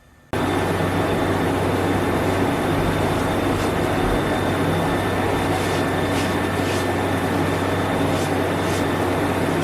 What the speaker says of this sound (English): I apologize for the noise from the heater